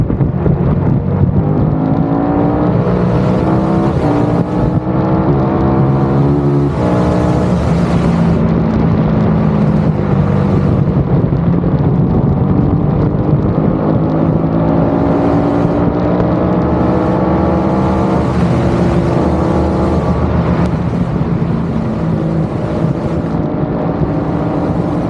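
Triumph Tiger 1200 GT Pro motorcycle engine revving steadily and loudly throughout, its pitch rising and falling in smooth sweeps with no voices present.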